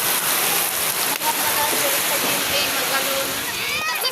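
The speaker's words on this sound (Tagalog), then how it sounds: "gabing ulan" Heavy rain pouring down at night, a dense, steady hiss of water striking surfaces nearby, loud and continuous throughout.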